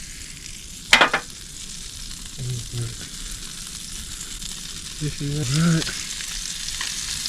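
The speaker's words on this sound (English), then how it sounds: "Ooh, it's sizzling." Flathead fish fries in a pan with a steady sizzle beneath a sharp clatter near the start, and someone speaks briefly a couple of times.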